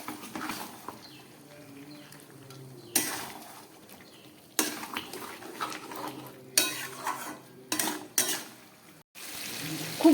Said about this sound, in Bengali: ঢাকাটা খুলে আবার ভালো করে কষাবো।